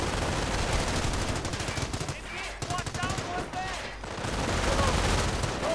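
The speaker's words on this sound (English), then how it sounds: "Heavy machine gun fire being directed, and veterancy 2 for the 30 caliber." Heavy .30 caliber machine gun fire in a WWII strategy video game, dense continuous bursts of rapid shots filling the scene, with a brief lull midway before the loud firing resumes.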